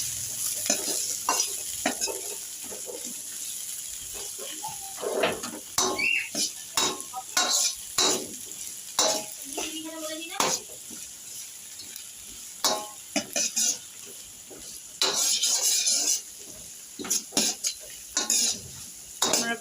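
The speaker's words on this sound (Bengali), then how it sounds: "পেঁয়াজ কুচি এগুলো সব দিয়ে এবার আর স্প্রিং অনিয়ন এগুলোকে এবার ভালো করে চটে করতে হবে" Chopped onion and spring onion stir-fried in a pan, with a steady sizzle under repeated scraping and clinking strokes of a spatula, loud and close with no talking.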